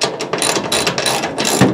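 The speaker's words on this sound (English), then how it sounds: "Just ratchet this one in real quick." A hand ratchet cranking down a bolt under the hood of a 1967 Camaro, giving a quick run of close, loud clicking pawl strokes for under two seconds with no voices.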